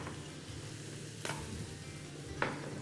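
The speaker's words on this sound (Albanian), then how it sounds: "Do t'i shtojmë orizin." Rice for a seafood and vegetable paella sizzling steadily in a hot pan, with two sharp clinks of a utensil against the pan over the frying hiss.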